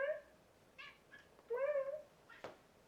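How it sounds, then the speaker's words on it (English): A house cat meows several times in a quiet room, short plaintive calls with one longer drawn-out meow in the middle, close and fairly soft. "My cat came to say hi."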